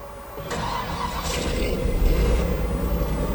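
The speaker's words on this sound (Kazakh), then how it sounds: "Қазір мен зажиганияны қосайын, оталдырып сіздерге қалай оталатынын көрсетейін." A 1977 Nissan Gloria 330 Brougham, also sold as the Nissan Cedric, has its engine cranked and started; it catches and settles into a steady, rumbling run that stays moderately loud throughout, with no voices.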